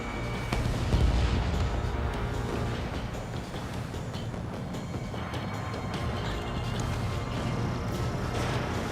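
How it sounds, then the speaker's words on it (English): A missile launch and explosion in Ace Combat 7, rendered as a dense, continuous roar of booming blasts and rumble that stays loud and close for the whole span. "Missile away."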